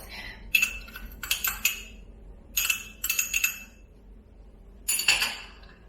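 A little teaspoon clinks against a container while citric acid goes into homemade elderflower cordial, in several short bright metallic clusters with quiet pauses between, close and alone.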